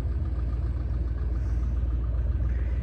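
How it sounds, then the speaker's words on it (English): A twin-engine propeller plane at Frederick Municipal Airport runs its engines, a steady dense low rumble held at constant loudness, heard from nearby with no voices. "Now the twin engine's revving up."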